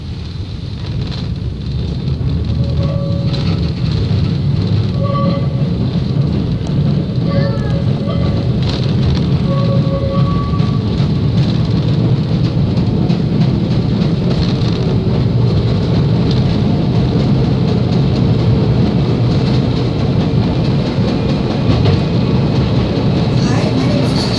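A Bendigo heritage tram running, a steady loud low rumble and rattle of wheels on rails with occasional squeals and bell-like tones, and voices faintly talking underneath.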